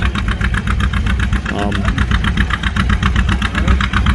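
A John Deere tractor labours under load at a tractor pull, a loud, steady engine drone with a rhythmic pulsing throb that holds throughout, with crowd noise and faint talk mixed underneath.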